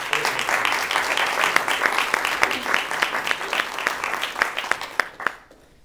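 Lecture audience at the 2009 Kaufman-Repage Lecture giving a round of applause, dense clapping with sharp individual claps standing out, loud at first and then thinning and fading out near the end.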